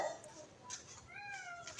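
A large cat calls out from a third-floor spot where a pregnant mother cat had been trapped for a day and a half, giving a weak, drawn-out meow against background hiss.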